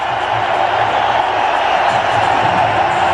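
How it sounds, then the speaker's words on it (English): Cricket stadium crowd and dressing room applauding a batsman's half-century in a one-day international against Australia, a steady broad wash of clapping and cheering that holds throughout at close, even loudness. "Acknowledging the applause of the dressing room and the crowd"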